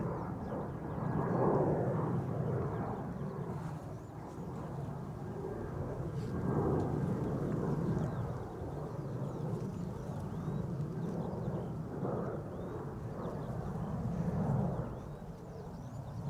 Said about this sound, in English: EasyJet to Malaga, A319, taking Cheaters Lane on the center runway, next to take off from the center runway.